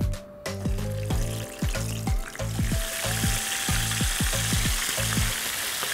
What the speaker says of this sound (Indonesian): Kita goreng dengan minyak yang cukup panasnya.